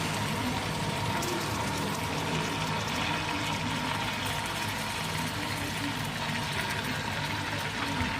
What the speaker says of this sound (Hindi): इसमें तकरीबन ½ कप पानी शामिल करेंगे।